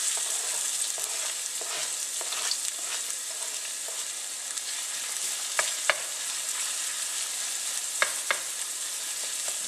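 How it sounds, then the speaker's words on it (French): Shallots sizzle gently in hot olive oil in a wok over lowered heat, a steady crackling fry with a few sharper pops and stirring clicks, alone and fairly close. "Je vais faire blondir mes échalotes"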